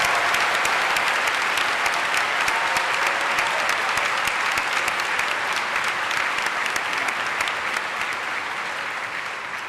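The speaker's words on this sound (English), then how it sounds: "can we give a big round of applause for Ms. Patton and all the amazing moms here" A large audience at an Emory University keynote event gives a big, sustained round of applause, dense and loud, holding steady for nearly ten seconds before easing slightly at the end.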